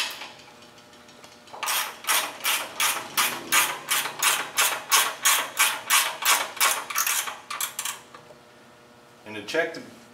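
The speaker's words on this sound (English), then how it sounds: "Now we're going to tighten it back up." The belt mechanism of a kinetic log splitter is tightened by hand, a close run of about fifteen evenly spaced ratcheting clicks that stops abruptly, followed by a pause and a short final rattle.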